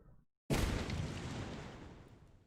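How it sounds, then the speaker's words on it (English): A large explosion goes off in the horror survival game Darkwood after a brief silence, a sudden loud boom that rolls on and slowly fades. "I don't know how big this explosion's gonna be."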